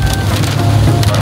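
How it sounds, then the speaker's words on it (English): Steady rain falling outdoors after two days of non-stop downpour, a loud close patter of drops on surfaces with a constant hiss and no speech. "Just rain for 2 days now."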